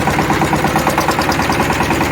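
A Shifeng SF 160 tractor engine runs while ploughing in a field, a loud, close, steady rhythmic chugging with a pulsing beat and no talk over it.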